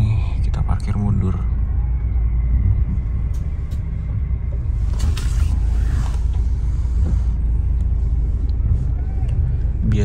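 A Gunung Harta coach bus on a Jakarta to Malang trip reverses into a parking spot with a heavy, continuous engine rumble and occasional creaks and clunks, while people talk over it throughout.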